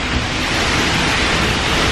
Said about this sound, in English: So this is behind the waterfall, kind of more of a side-on view.